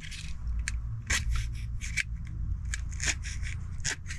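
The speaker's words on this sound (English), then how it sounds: "And I'm gonna cut this one side." Scissors cutting a strip of material inside a self-converted Camaro camper, a series of close, crisp snipping and slicing strokes in uneven rhythm, heard alone without talk.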